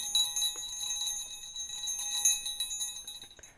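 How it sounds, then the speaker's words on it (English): A small metal bell sewn around the neck of a plush donkey toy jingles repeatedly as the toy is shaken, a bright, continuous tinkling that stays fairly close and steady throughout. "so you can sort of hear that ring when you move him or shake him too much"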